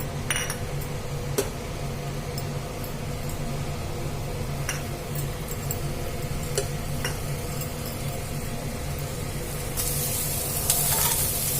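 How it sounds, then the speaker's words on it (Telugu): Onion pieces fry in hot oil with a loud, continuous sizzle close by, punctuated by occasional spoon taps and scrapes, the hiss brightening near the end. "ఆయిల్ అయితే కొంచెం వేడెక్కింది నేనైతే ఇప్పుడైతే ఉల్లిపాయల ముక్కలు అయితే వేసేసుకున్నా"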